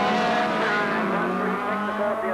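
Rallycross Mini race cars, including a twin-cam Mini, roaring together down the track at Lydden Hill in 1985, a steady, loud blend of revving engines heard from a distance.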